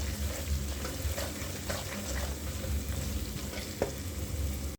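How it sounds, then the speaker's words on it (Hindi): Salt, turmeric, red chilli and coriander powder fry in a pan for mixed vegetable pulao. A steady, close oily sizzle runs throughout, broken by occasional light scrapes of stirring. "और मसाले को अच्छी तरीके से भून लेंगे"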